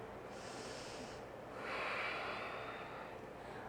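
During a yoga flow, a close, soft full breath is drawn in through the nose, then released in a gentle airy exhale, quiet and unhurried with no talking over it.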